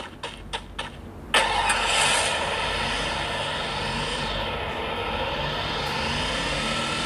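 A car in the mobile game Free Fire on an iPhone 8 Plus, a few short clicks then an engine bursting on and droning steadily, fairly loud and continuous with no speech.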